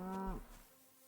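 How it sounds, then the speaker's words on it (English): A single cow moos in a long, drawn-out low call that drops off after about a third of a second, heard alone in a medieval village meadow in Kingdom Come: Deliverance 2. "Look at this blessed cow."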